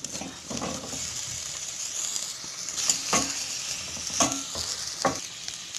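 Apple pieces cooking and being stirred in a pan for Kerala-style prawn curry, giving a continuous soft sizzle with several distinct scraping stirs, close and fairly loud, with no voices.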